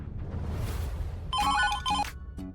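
An indoor telephone rings at night in two quick, bright electronic bursts with a fainter third, rising out of a low, muffled room hum.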